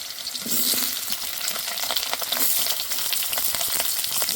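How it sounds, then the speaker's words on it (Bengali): Potatoes frying in hot oil already used for lentil fritters sizzle and crackle steadily, close and lively, with occasional stirring clinks and no talking. "বড়া ভাজার তেলেই আলুগুলো ভেজে নেব।"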